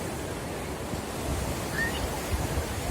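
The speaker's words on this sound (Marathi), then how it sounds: "हा गोव्याचा बागा बीच आहे." Surf rolling onto Baga Beach in North Goa, a steady wash of breaking waves with low wind rumble, continuous and moderately loud, swelling slightly toward the end, with no voices.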